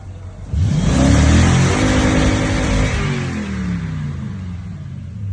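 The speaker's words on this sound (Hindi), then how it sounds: "तो इसको एक दफ़ा हम फुल रेस देते हैं और चेक करते हैं।" Toyota Tundra engine, checked for a misfire, revved hard to full throttle: a loud rising roar that peaks and then holds a rumbling, slowly falling drone before easing off.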